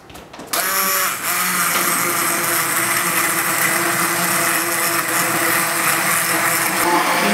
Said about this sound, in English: You see how it's all just getting blended?